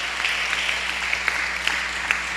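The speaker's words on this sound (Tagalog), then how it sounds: "Alright, sige, palakpak pa." A church congregation claps in a steady, even round of applause with a few sharper hand claps standing out near the end.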